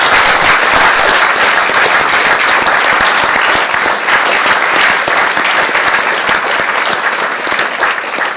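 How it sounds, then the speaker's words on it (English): A large crowd applauds loudly and steadily, dense clapping filling the whole stretch without letting up. "I want to give you a big round of applause."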